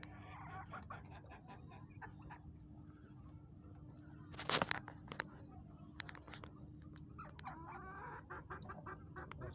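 Hens cluck softly at a distance amid a low steady background hum, with scattered short calls and one sharper squawk near the middle, no voices.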